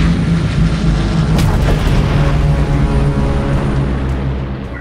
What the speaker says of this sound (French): Les avions d'assaut sont envoyés pour tout anéantir.